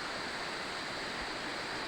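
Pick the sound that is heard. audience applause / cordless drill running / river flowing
river flowing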